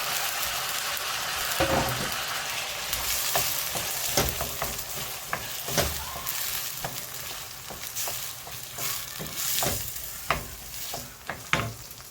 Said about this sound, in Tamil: கட் பண்ணி வச்சுருக்க தக்காளி போட்டுக்கலாம் அதுவும் நல்லா வதங்கட்டும்